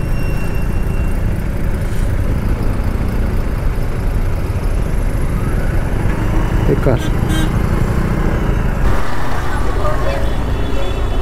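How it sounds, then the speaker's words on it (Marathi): Steady, dense road traffic noise surrounds a Yamaha Aerox 155 scooter riding the Mumbai to Kankavli route through the Konkan, with a continuous loud engine and wind rumble and passing vehicles throughout. "इथे पण ट्रॅफिकच आहे."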